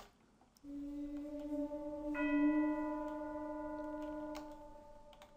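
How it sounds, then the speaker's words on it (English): An orchestral chime from the EastWest Hollywood Orchestral Percussion library rings with sustained, clear tones, a second higher strike entering midway, both decaying slowly and heard alone at moderate level. "with the effects, there is the chime sounding."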